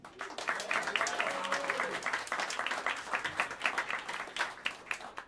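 A jazz club audience at Smalls applauds alto saxophonist and bandleader Eric Person of a live quartet with steady, dense clapping and some scattered cheers throughout.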